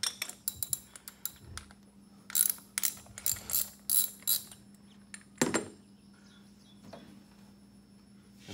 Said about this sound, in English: we're going to remove the oil filter